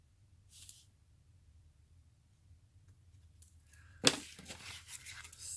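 Cutting the spine of a cardboard box to make a folder, a quiet stretch with a short scrape early on, then a sudden sharp cut followed by rough tearing and crinkling of cardboard, close by and without talk.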